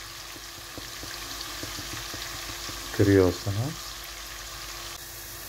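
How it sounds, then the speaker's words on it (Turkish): Potatoes fry in hot oil with a steady, even sizzle and hiss, and a voice speaks briefly over it. "Şu an patatesi koydum kızgın yağda."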